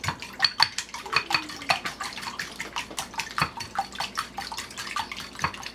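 Eggs and fresh milk are beaten in a bowl, the whisk or fork knocking against the sides in quick, uneven clicks and light taps at close range. It carries on steadily with no talk.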